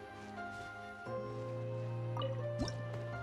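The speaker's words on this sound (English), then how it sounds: "Wow, another water droplet just came out from the wall!" A water droplet dripping from a wall in Genshin Impact's Veluriyam Mirage, a bright liquid plop with a short watery squish, heard over a steady humming game ambience with no talking.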